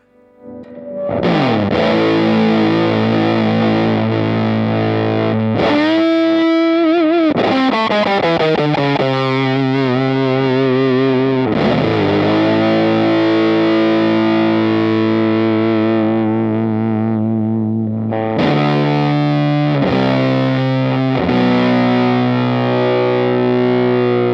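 Heavily distorted, fuzzy electric guitar, a PRS with a humbucker through a Tone Bender 1.5 fuzz pedal, playing sustained chords and sliding notes, loud and continuous with a few brief breaks between phrases.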